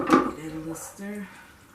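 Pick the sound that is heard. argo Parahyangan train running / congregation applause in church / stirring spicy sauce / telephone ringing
stirring spicy sauce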